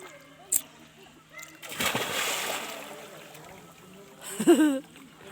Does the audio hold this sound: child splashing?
yes